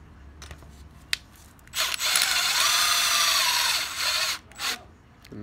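Head bolts being run into a 19 hp Briggs & Stratton Intek engine with a power driver, a close whirring burst lasting a couple of seconds, framed by a few clicks and clanks of handling.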